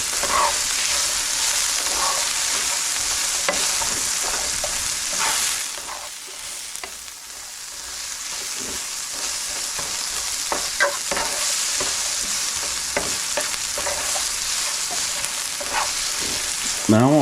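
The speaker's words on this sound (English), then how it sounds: "Now I want to cook this or saute it until those onions get just a little bit brown around the edges" Onions sizzle as they sauté in a pan, a steady close frying hiss broken by occasional stirring scrapes and clinks, with no voices.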